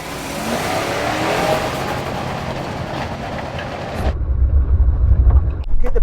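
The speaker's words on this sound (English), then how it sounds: "Gonna razz the car up the hill and Graham is gonna time me." Toyota Land Cruiser engine revving hard as it climbs a rocky off-road hill, a loud sustained roar with gritty rumble that shifts to a deeper, closer low-end drone with crunching near the end.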